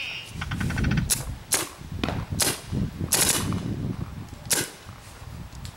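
An airsoft rifle fired through a chronograph during velocity testing, a string of sharp, close snapping shots spaced unevenly with short mechanical rattles between them, no speech.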